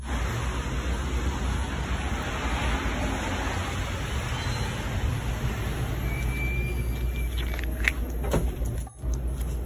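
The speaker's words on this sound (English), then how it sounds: "This rain is so loud." Heavy rain pours at a gas station as a steady, loud broadband hiss with no let-up, joined by a few faint clicks and a brief dip near the end.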